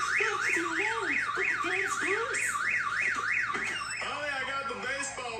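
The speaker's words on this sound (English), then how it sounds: "The car alarm's gone off." A car alarm sounds, a loud rising-and-falling electronic siren cycling steadily for several seconds before shifting pattern, with a voice talking underneath.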